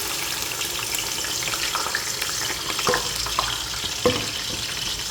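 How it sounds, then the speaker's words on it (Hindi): Onions frying in hot oil for a black chana curry, a steady close crackling sizzle with occasional stirring clinks and scrapes, no talking. "ऑयल अच्छी तरह गर्म हो चुका है, तो अब इसमें हम प्याज ऐड करेंगे।"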